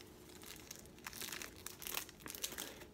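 Gum wrappers crinkle and rustle as they are handled close by, a run of soft irregular crackles and crumples with a few sharper crackling bursts, without speech.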